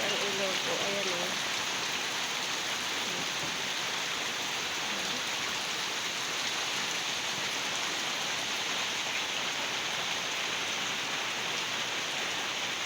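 Heavy rain pours down steadily as a dense, continuous hiss during a flood-prone spell of wet weather, with a river swollen nearby, and a voice speaks briefly near the start.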